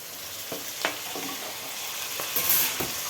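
Chopped tomatoes sautéing in a pan for a drumstick leaf sambar, giving a steady low sizzle with a few soft stirring scrapes and clicks, close by with no talking.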